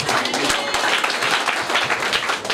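A church congregation claps in dense, steady applause, loud and close throughout, with a few sharper individual claps and cheering voices mixed in.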